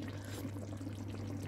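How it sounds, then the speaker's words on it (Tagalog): Small splash of water poured into a pan of frying pork afritada, a soft steady pouring and sizzling texture over a low constant hum. "After i-fried, lagyan mo ng konting tubig lang"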